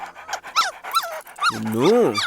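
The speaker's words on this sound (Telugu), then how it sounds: "మరి ఇంత చిన్న కుక్క పిల్ల కొన్నా?" A tiny puppy in a Telugu comedy scene gives a quick run of high, squeaky yelps and whimpers close by, ending in a longer rising-and-falling whine, with voices nearby.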